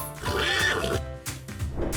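A horse whinnies in a shaky, wavering neigh that rises and falls, loud and close, over a bouncy background music track with rhythmic beats.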